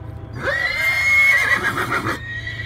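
An anxious horse whinnies loudly and close at a cutting horse show, a single sustained neigh lasting about two seconds over faint background rumble.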